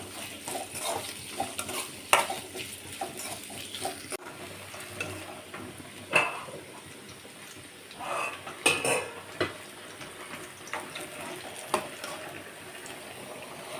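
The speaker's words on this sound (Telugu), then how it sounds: "అదే నూనెలో ఒక 2 ఉల్లిపాయలు పొడుగ్గా కట్ చేసుకొని వేసుకోవాలి. వీటిని కూడా దోరగా వేయించుకోవాలి మంచిగా." Two long-sliced onions fry in oil in a pan, with a low sizzle under repeated scraping stirs and clinks of a metal spoon against the pan.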